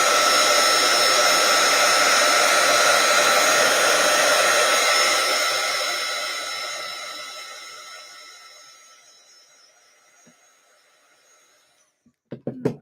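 A hair dryer blows loudly and steadily on a scraper painting, then fades away and stops, followed by a few brief knocks.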